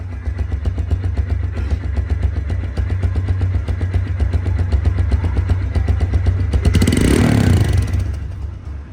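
A TVS Stryker 125cc motorcycle with 8,000 km on it idles with an even, rapid thumping rhythm, loud and close, then briefly revs higher near the end before settling.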